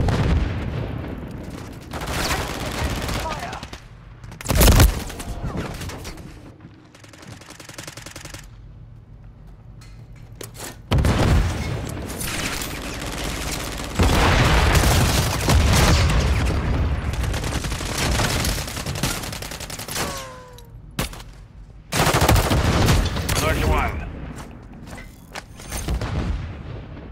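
Gunfire and grenade blasts in Call of Duty MW3 multiplayer: loud repeated bursts of shooting and booming explosions, with sharp bangs and rolling rumble, some quieter gaps between bursts and faint in-game battle noise throughout.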